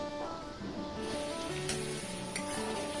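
Whole green chillies fry and are stirred in a pan for a Bengali fish-bone dish, giving a steady close sizzle with scraping stirs.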